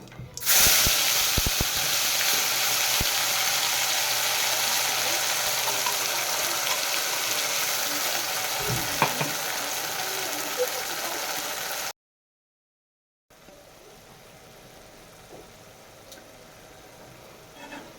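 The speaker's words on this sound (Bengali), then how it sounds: "মশলাটা কষে নেবো" Spice paste frying and being stirred for a Katla fish curry, with a steady loud sizzle for about twelve seconds and scraping clicks, then a brief silence and a quieter hiss afterward; no talk.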